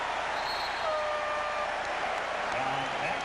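Arena crowd at a 1993 NBA Finals game between the Suns and Bulls keeps up a continuous, fairly distant roar and murmur as a player is substituted, with a commentator's voice low in the mix.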